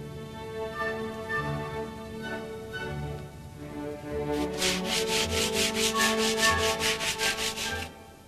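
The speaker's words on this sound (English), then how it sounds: "we're going to sprinkle a little cement dust over the top and just rub it in to give an authentic look" Cement dust rubbed by hand into a repaired concrete step, a soft gritty scraping that shifts into a quick, even series of about a dozen rhythmic rubbing strokes, close and fairly faint.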